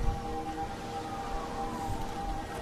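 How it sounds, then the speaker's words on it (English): Sirens wailing far off outdoors, a faint, steady tone held over a low background wash, with no talking. "Oh, can hear some sirens going off."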